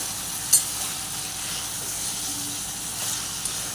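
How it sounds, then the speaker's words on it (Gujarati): Cluster beans and potatoes sautéing in tempered oil give a steady, soft sizzle with a faint hiss throughout, broken by a sharp clink of a spoon near the start and light stirring knocks later. "આપણે જે તેલમાં વઘાર કર્યો છે એ તેલમાં જ આ પાણી નાખ્યા વગર આપણે એને 2 મિનિટ માટે સાંતળવાનું છે ગુવારને"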